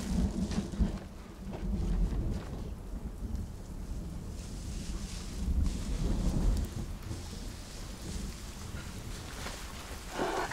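Heavy rain pours steadily during a night-time storm, with low rumbles of thunder swelling around the middle and near the end, and wind buffeting the microphone throughout.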